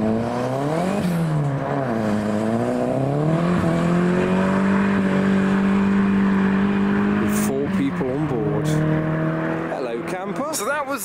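A small Toyota Starlet accelerates away at a car meet of modified cars, its engine note rising and falling through gear changes as it pulls off, with crowd noise around it.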